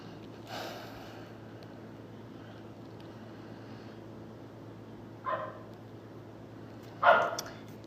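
Dogs bark outdoors, heard as three separate muffled barks spaced apart over a low steady hum, fairly faint and distant.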